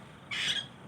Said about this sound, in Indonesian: Oh itu burung hantu teman-teman.